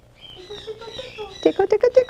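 A pet parrot vocalizes in a rapid run of short, rising syllables: a soft chattering phrase first, then five or six distinct loud pulses close to the microphone, like a bird mimicking a repeated word.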